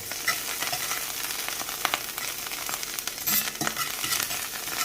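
Black trumpet mushrooms sizzle in butter in a pan, a continuous close crackling hiss with small pops and a few stirring sounds, with no voices.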